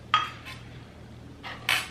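A spoon clinks against a dish a few times as heaping spoonfuls of sugar go into shrimp ceviche, with short metallic taps and scrapes spaced apart in a quiet kitchen.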